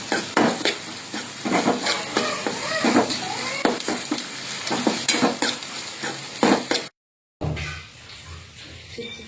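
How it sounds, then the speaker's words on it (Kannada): Green chillies and garlic paste frying in a pan for Gobi Manchurian, with steady sizzling and repeated utensil scrapes and clinks of stirring, briefly cut out near the end before the sizzle resumes. "ಪೂರ್ತಿ ಕಲರ್ ಚೇಂಜ್ ಆಗುವವರೆಗೂ ನಾವು ಫ್ರೈ ಮಾಡ್ಕೋಬೇಕ್ರಿ."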